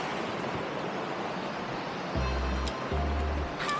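Swift river water rushes steadily across a shallow ford about 1.5 feet deep, giving a constant broadband wash with a couple of brief low hums breaking through near the end.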